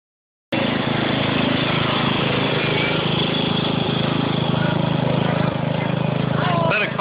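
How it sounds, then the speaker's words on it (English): Engines rumble continuously and loudly as motorcycles pass by during the Fiesta Days parade in Spanish Fork, Utah, a steady droning roar with some voices faintly in the background. "We just got to watch the cool bikes"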